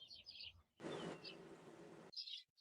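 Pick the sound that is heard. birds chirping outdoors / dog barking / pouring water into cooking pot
birds chirping outdoors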